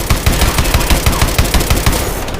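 Rapid machine-gun fire in the Call of Duty: Advanced Warfare mission escaping the Atlas base hammers out as a loud, continuous burst of closely spaced shots, filling the clip without speech.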